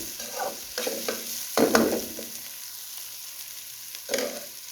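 Butter frying in a pan for a breadfruit oildown with pigtail, a soft steady sizzle broken by a few louder bursts of stirring or scraping, close up with no talk.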